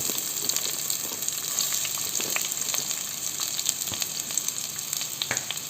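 Two sliced onions fry in hot coconut oil for a beef pepper masala, crackling with a dense, close sizzle full of small spitting pops.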